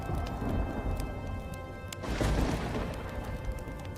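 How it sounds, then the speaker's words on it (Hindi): Steady rain hisses throughout a storm, with a deep rolling thunder boom swelling up around the midpoint and then fading back into the downpour. "और जोर जोर से बिजली कड़कने लगती है"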